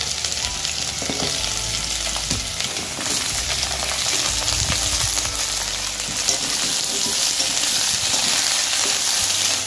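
Mixed vegetables fry with a loud, steady sizzle in a hot wok: pumpkin, papaya, sweet potato, flat beans, eggplant, carrot, tomato and peas. Bursts of crackling and stirring scrapes run throughout, close up and without speech.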